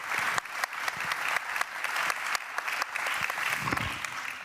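An audience at a conference event breaks into sustained applause, a dense, steady clapping from a crowd with no pause across the clip.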